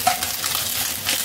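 Food frying in a pan, with a loud, bright, continuous hiss and crackle of sizzling oil and faint stirring, heard close up for a brief moment.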